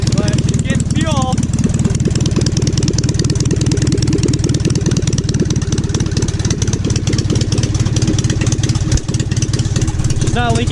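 A small engine with a slight fuel leak runs continuously at a loud, steady idle and stays close throughout, with a voice briefly heard over it.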